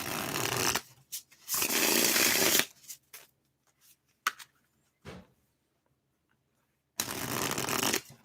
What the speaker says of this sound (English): if I shuffle a lot, sorry, I shuffle a lot